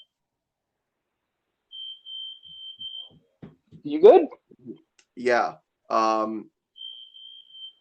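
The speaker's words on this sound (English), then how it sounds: "There's a smoke alarm going off outside." A smoke alarm sounds outdoors in faint, repeated high beeps at a steady pulse, heard in the distance while people talk briefly over it.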